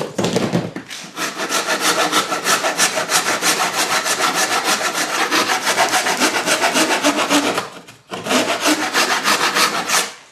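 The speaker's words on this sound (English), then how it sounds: "You kind of rasp along and then hold up straight edge to see that you're not getting too far off." A hand rasp shapes a wooden oar with fast, rhythmic back-and-forth strokes. The scraping is close and loud and runs continuously, with one brief pause before it resumes.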